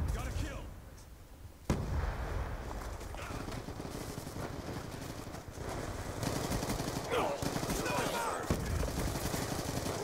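Rapid gunfire from the Black Ops 2 video game, dense bursts and overlapping shots running steadily through the stretch with a sharp crack near the start, mixed with game noise and some voice underneath.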